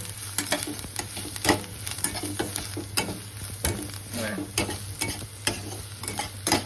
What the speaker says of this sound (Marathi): छान मसाले परतून घेते